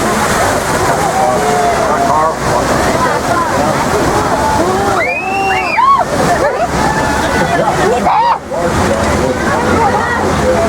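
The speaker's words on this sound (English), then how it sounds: "the water does come across the floor, just stick your feet up" Flood water rushes across the floor during a special-effects scene on the Universal Studios Hollywood studio tour, a loud, continuous sloshing roar with surging splashes, heard under the excited chatter and cries of tour riders.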